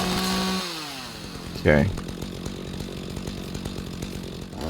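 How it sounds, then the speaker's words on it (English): A chainsaw cuts a tree in the video game Rising World, its buzzing engine running steadily throughout with a brief louder rev partway, while someone says a single word over it. "Makes it so much easier with the chainsaw"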